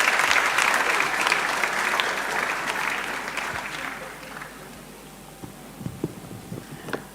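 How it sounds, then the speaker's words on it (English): A crowd at a school graduation and prize-giving ceremony applauds the principal, Mrs. Darcy. The clapping is full at first, then thins and fades to a few scattered claps. "Round of applause for her, please."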